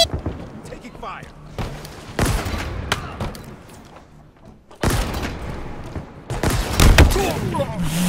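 Bursts of gunfire in the Halo Infinite video game, with booms and thuds at close range, loud and irregular with quieter gaps between volleys.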